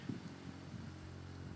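A farm tractor working an adjacent field gives off a steady low drone, distant and fairly quiet, with a constant hum and no voices.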